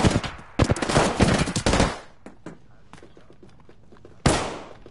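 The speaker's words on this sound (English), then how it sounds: "She's trying to shoot me." Bursts of rapid automatic gunfire in the Apex Legends video game, a loud close volley, a quieter stretch of scattered shots, then another sharp burst near the end.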